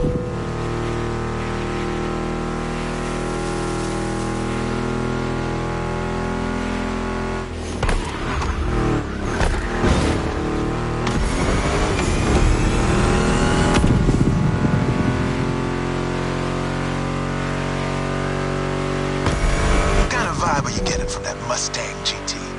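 Ford Mustang GT muscle car in the racing game The Crew Motorfest, its engine droning and revving steadily throughout, rising in bursts of acceleration mixed with game music and effects.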